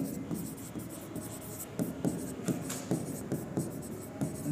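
Chalk or marker writing on a board during a chemistry lesson on ethane conformations, heard as a run of close, irregular scratchy strokes and taps, with a teacher's voice speaking over it.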